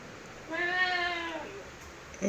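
A cat gives a single drawn-out meow of about a second, moderately close in a quiet home, with a soft thump at the end.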